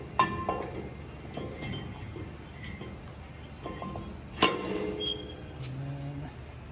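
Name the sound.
brake rotor being put back on the hub of a 2002 Ford F-350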